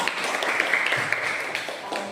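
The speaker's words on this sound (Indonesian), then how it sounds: "Tepuk tangan." Applause from a class group in a school setting, a steady wash of hand claps at moderate distance lasting the whole moment, with no voices over it.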